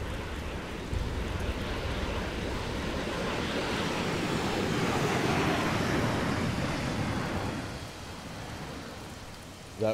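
Choppy sea water in ArmA 3, a steady, broad wash of waves and surf that swells slightly in the middle and eases off toward the end, with no voices.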